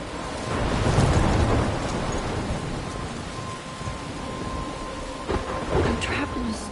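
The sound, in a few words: thunderstorm in video game Life is Strange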